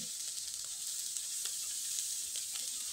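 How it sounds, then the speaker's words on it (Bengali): Potato filling for a crisp snack sizzles steadily in a pan while being stirred, a continuous bright frying hiss with faint scraping clicks, close and alone. "এখন খুব ভালোভাবে নেড়ে চেড়ে নিব।"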